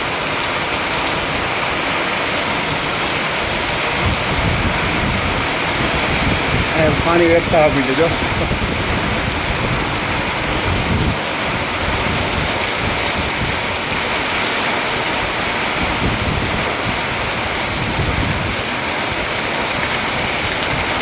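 Heavy rain falls in a residential society in Porbandar, a dense, continuous roar of rainfall and running water that stays loud from start to finish, with a person speaking briefly over it.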